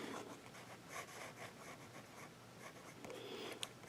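Lamy Safari extra fine fountain pen nib dipped in ink and writing on paper, a faint close scratching of short strokes repeating steadily, alone without talk.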